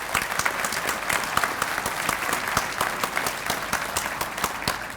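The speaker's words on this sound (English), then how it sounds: "A big round of applause for our elected officials." Applause from a breakfast event audience for elected officials, steady dense clapping that holds evenly throughout without a break.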